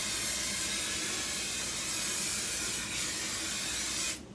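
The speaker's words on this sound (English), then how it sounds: "So now I'm going to spray it again." A spray can hisses onto a quilt top in one long, continuous close-up burst that holds steady for about four seconds, then cuts off abruptly, with no talking.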